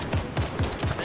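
Automatic weapon fire in Fortnite, a quick string of about four sharp shots at an even pace, fairly quiet and slightly distant within the game mix.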